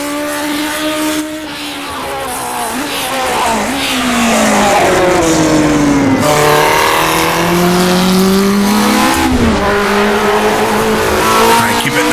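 A 1960s Formula 1 car in the rFactor 2 racing simulator, its engine revving loud and close, rising and falling through gear changes and sweeping pitch shifts across a lap, with tire squeal mixed in.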